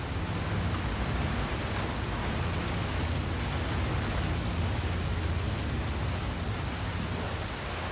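Steady, dense rain falls in the video game The Beast Inside, a constant broadband hiss of downpour on surfaces that stays even and loud across the whole stretch, with no voices.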